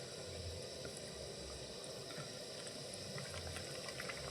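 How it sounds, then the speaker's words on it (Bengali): Mung puli, a Bengali sweet dumpling, fries in very hot oil with a steady, dense bubbling hiss that stays constant and fairly quiet from start to finish. "আর এখানে দেখো ভাজা হচ্ছে, তেলটাকে একদম গরম করে নিতে হবে"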